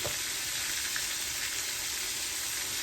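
Liver and onions sizzle in a pan over a flame set just below medium, giving a steady, even frying hiss close up with no talking.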